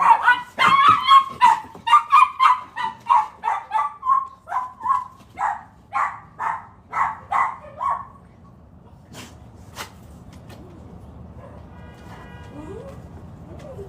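A dog barks in a rapid, loud run of about fifteen close barks that slow toward the end, followed by quiet room noise and a faint whimper.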